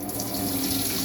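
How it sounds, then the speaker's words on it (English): Thin tomato pulp poured through a cheap tea strainer makes a steady close trickle and splash of liquid, like a running tap, lasting about a second with no talking. "we'll pour it through this like tea strainer"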